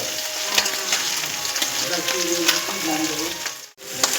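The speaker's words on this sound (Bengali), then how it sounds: "এবার আমি এগুলো ভালো করে কষিয়ে নেব" Mixed vegetables with slit green chillies fry in a pan, a soft continuous sizzle with faint stirring clinks, close by, while a voice murmurs in the background.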